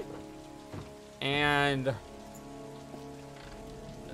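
Steady rain patters in the video game Heavy Rain, a constant soft hiss broken by a brief loud tonal burst and one short spoken word.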